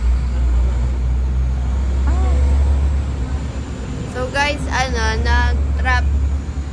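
Continuous low engine rumble and road noise from traffic on Sumulong Highway, Antipolo, fills the whole stretch, with a person talking briefly over it toward the end.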